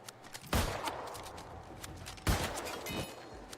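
Two loud bursts of gunfire in the zombie game Dead Island 2, each a sharp crack followed by a rattling tail, separated by a short pause over a low background.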